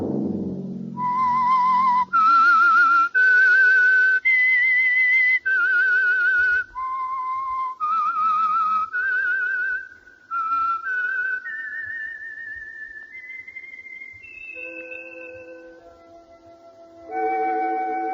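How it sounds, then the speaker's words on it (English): A lone whistler performs the theme signal of The Whistler radio drama, a clear, close, sustained melody of held notes that climb and fall, ending with a brief low orchestral swell. "Let that whistle be your signal for the Whistler"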